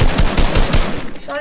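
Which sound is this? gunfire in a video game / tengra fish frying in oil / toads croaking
gunfire in a video game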